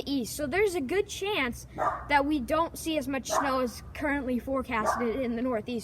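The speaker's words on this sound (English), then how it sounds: "Sorry for the dog barking in the background." A dog barks and yips repeatedly in a room while someone talks over it throughout, the barks loud and insistent in short bursts.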